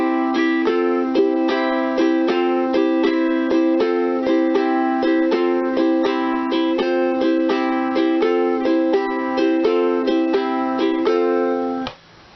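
Slow rock and roll rhythm strummed on a ukulele using an added sixth chord, steady down-up strokes with clear plucked harmonics, played alone at an even moderate volume for about twelve seconds before stopping.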